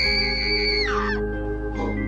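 A woman screams in a forest, a loud sustained shriek that breaks into a falling, wavering tone, then rises again briefly, heard over a steady low hum.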